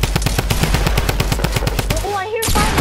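Rapid automatic gunfire in a video game, a steady stream of close, loud bursts for about two seconds, then a brief whine and a swell of further shooting and effects.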